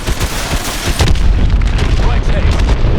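Heavy missile explosions in the video game Call of Duty: Advanced Warfare, a dense run of booming blasts and rumbling bursts that grows louder after the first second, with game radio voices faintly mixed in.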